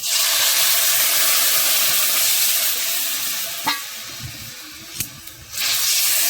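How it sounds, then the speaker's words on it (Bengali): Water poured onto frying spices for a fish curry sets off a loud, dense hiss that eases after a few seconds, with a couple of clinks before the steam surges loudly again, and no one speaks. "মশলাটা দু এক মিনিট ভেজে নেওয়ার পর এখন জল দিয়ে নেওয়া হবে"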